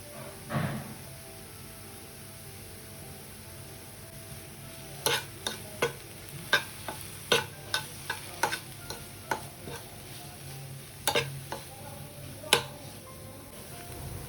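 Finely chopped onions, tomatoes and green chilies fry in butter with a soft sizzle. A spoon stirs and knocks against the pan in a burst of sharp, irregular scrapes and clicks, preceded by a quieter stretch.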